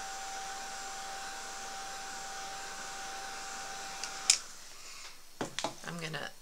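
A hair dryer drying paint on a statue being painted runs as a steady, even whoosh, then cuts off, followed by a few brief clicks and handling noises near the end.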